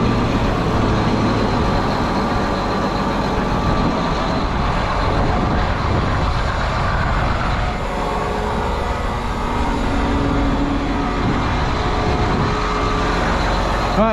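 A John Deere 8270R tractor engine runs steadily on a farm, a loud continuous low rumble with no pauses and no talking throughout.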